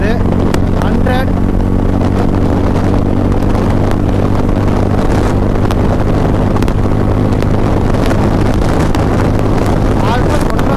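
Royal Enfield Classic 350 with a modified exhaust cruising fast on a highway, a steady deep engine drone buried under heavy roaring wind buffeting, loud and continuous.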